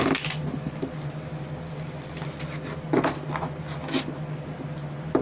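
Tarot cards are shuffled by hand in a few brisk riffling bursts spaced about a second apart, close and moderately loud, over a low steady hum.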